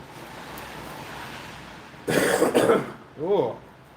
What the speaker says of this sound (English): Oh, still got this cough.